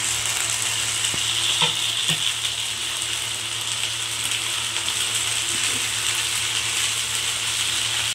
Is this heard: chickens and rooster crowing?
no